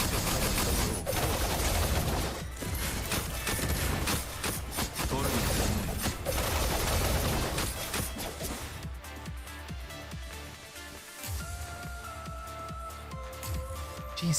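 Rapid bursts of gunfire from the Punishing: Gray Raven action game, dense and loud for most of the stretch with layered game effects and music, thinning into quieter tonal sounds toward the end.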